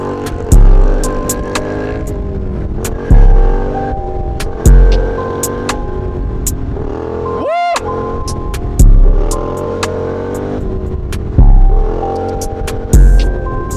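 A BMW F900GS motorcycle riding a road, its engine growling loudly and steadily with repeated throttle surges every couple of seconds and a brief gear-change dip midway, recorded close on the bike.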